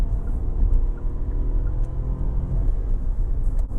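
Steady low road rumble inside a Hyundai HB20 Limited Plus cruising on a highway at about 110 km/h, engine near 3,600 rpm, a constant dull drone filling the cabin with no talking.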